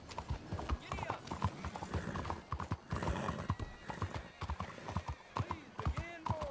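Horse galloping in Red Dead Redemption 2, rapid rhythmic hoofbeats close up with a neigh and whinny, while a voice calls out over the hooves.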